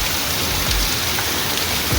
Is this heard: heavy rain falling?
yes